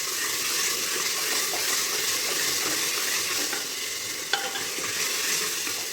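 Ginger, garlic and onion frying in a pan, a continuous loud sizzle with a faint stir or scrape partway through and no voices.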